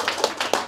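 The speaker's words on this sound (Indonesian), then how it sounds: "Tepuk tangan untuk Mr. Fauzi." An audience at an Indonesian religious talk claps briefly, a few quick, fairly close hand claps in under a second, with no speech over them.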